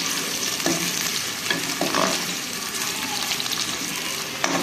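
Onions fry in a pan for dal, crackling and sizzling steadily close by, with scraping stirs and a few clinks of a utensil against the pan.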